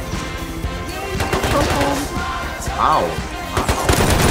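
Gunfire in the survival game Rust: rapid bursts of shots and a few heavier impacts, busy and fairly loud, with a voice exclaiming briefly amid the fire.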